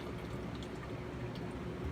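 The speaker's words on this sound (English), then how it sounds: "you will fill it with RO water" RO water poured into a small container for shrimp, a steady, soft continuous pour heard close up with no talking.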